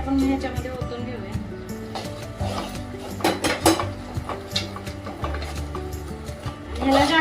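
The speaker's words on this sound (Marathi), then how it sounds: "तर ह्याला सतत असं ढवळत राहायचंय." Mysore pak mixture stirred steadily in a pan, with repeated clinks and scrapes of a spoon on metal running throughout under a continuous voice and background music.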